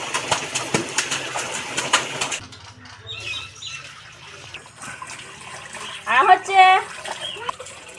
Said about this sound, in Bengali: অনেক রকম পাখির কলরব শোনা যায়